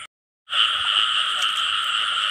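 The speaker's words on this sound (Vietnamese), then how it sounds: "Giờ ếch quá trời kêu rồi" A loud, dense chorus of many frogs croaks at night in a field during a frog hunt in Vietnam. It starts abruptly after a brief silence and then holds as a steady, unbroken trilling drone.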